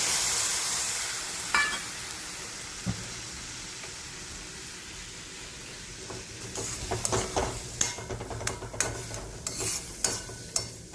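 Milk poured into green coconut halwa roasting in a pan brings a steady sizzle and hiss, then scraping and stirring strokes that come faster and clatter irregularly near the end.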